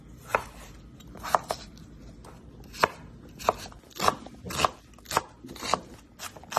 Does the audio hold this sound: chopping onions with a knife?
yes